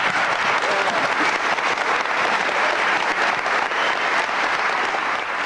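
A 1984 rally crowd of church members and union workers on Disinvestment Day stands to cheer and applaud, producing loud, unbroken, roaring clapping from start to finish.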